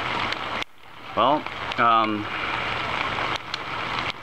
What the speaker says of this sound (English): This morning we had flash flood warning, and so far about 2 inches of rain came.